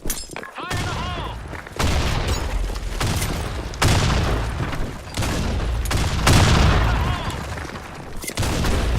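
Explosions and gunfire from the BlackShot first-person shooter game come in repeated loud booming bursts with crackling shots, a dense near-continuous barrage over nine seconds.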